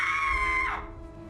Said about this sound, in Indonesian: Sebuah teriakan wanita tiba-tiba terdengar begitu keras.